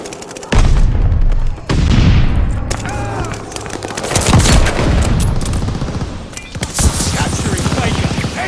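Incoming enemy artillery shells exploding in a sniper video game, loud booming blasts and rattling gunfire following one another in a dense battle din, with game voice lines under the explosions.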